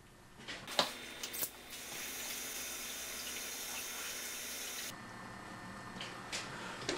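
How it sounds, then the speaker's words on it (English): Water running from a tap into a balloon, a steady rushing hiss lasting a few seconds between handling clicks and bumps, fairly quiet and close, with no talking. "Take this balloon and you're gonna fill it with water."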